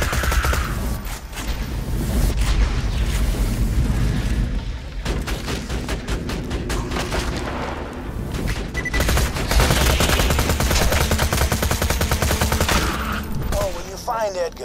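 Turret gunfire in Borderlands 2 during Tiny Tina's Assault on Dragon Keep, a dense, continuous rapid-fire barrage that stays loud throughout with explosive booms mixed in.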